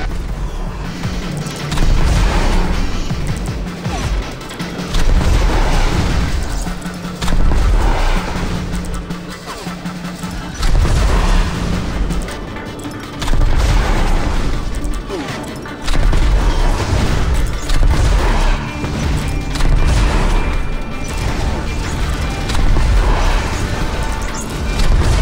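Heavy blasts and crashing weapon fire from the space shooter Redout: Space Assault pound in steady, repeated booms over a dense background of engine and combat noise, loud and continuous.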